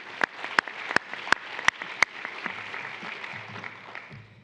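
A handful of sharp, distinct claps ring out in a large room at an award presentation, spaced irregularly over the first two seconds, then the applause fades into a soft, faint patter.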